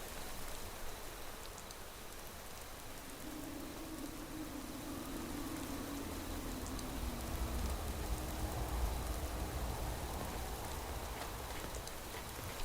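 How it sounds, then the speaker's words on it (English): Rain in Fallout 4 with a realistic weather mod: a continuous soft wash of falling drops on concrete, fairly quiet, with a low rumble swelling partway through and no speech. "So you hear that? Hear the rain?"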